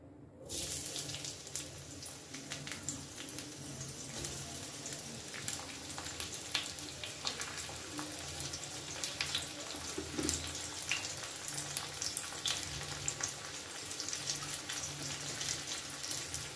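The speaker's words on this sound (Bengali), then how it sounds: "তেল গরম হওয়া পর্যন্ত অপেক্ষা করব। এর মধ্যে দিয়ে দেব কুচো করা পেঁয়াজ" Chopped onion frying in hot mustard oil in a pan, starting with a sudden burst of sizzle that settles into a loud, steady crackling hiss close by, with no talk.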